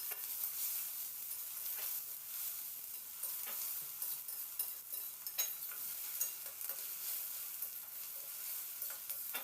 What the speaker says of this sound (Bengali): এবার পেঁয়াজটা দিয়ে মিনিট তিন চার সময় ধরে একটু ভাজা ভাজা করে নেব